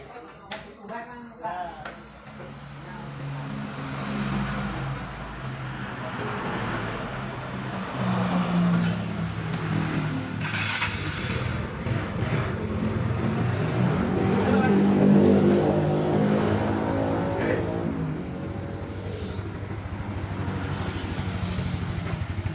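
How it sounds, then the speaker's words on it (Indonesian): A Yamaha Mio scooter with a low-end sputtering fault is started, and its engine runs and revs up, swelling and easing in a fairly close, continuous drone. "Setelah penanganannya kita starter dulu ya, starter."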